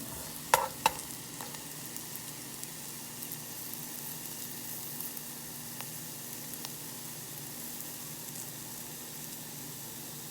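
A macaroni, egg and cheddar cheese casserole mixture is stirred in a pan just off the heat, with a few sharp utensil clinks near the start, then a steady low hiss and faint scraping.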